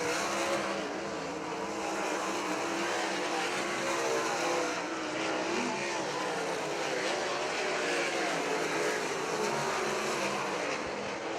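Sprint cars race a heat on the Crystal Motor Speedway oval, a dense, continuous engine roar from several cars filling the air at a steady loud level throughout.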